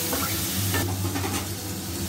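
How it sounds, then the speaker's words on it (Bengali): Spiced gravy with turmeric and salt fries in a kadai for a young jackfruit ghonto, giving a soft, continuous sizzle with light stirring scrapes, faint and close with no talking. "এখন ভেজে নেব।"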